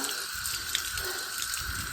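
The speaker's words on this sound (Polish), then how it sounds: "Spuszczę tą ciepłą wodę, bo pierwsza ciepło rodzi." Water gushes steadily from a hydrant tap at an outdoor water tank by the beach, a continuous, fairly loud, rushing flow with no voices over it.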